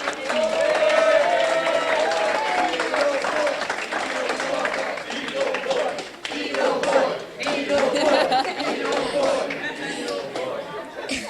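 A telethon audience applauds and cheers for a young boy, Michael Luco, dressed as Beetle Boy: steady, dense clapping with shouts and crowd chatter that holds throughout, dipping briefly near the middle before swelling again.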